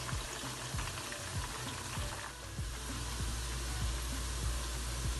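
Onions frying in oil for deghi qorma, a constant dense sizzle with regular, rhythmic stirring scrapes about every half second, close and steady throughout, no voices.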